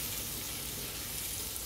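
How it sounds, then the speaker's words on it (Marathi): Onion and tomato sautéing in oil for dal khichdi, a steady soft sizzle that holds at an even low level without pause or voices. "इथे आपले कांदा टोमॅटो छान परतले आहे."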